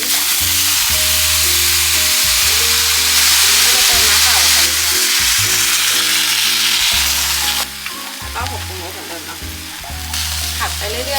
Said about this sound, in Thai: เราก็จะตั้งกระทะใส่น้ำมันแล้วก็ตามด้วยผักที่เราเตรียมไว้